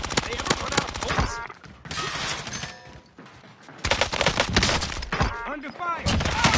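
Sustained bursts of rapid gunfire from enemy soldiers in a military video game, loud and dense, with brief lulls between volleys and intermittent voices beneath the shooting.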